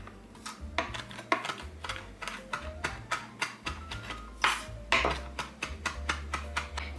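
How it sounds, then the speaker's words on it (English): A knife chopping fresh rosemary on a cutting board for focaccia, a quick, irregular series of crisp taps, close and fairly loud, with no talking. "Let me chop this up."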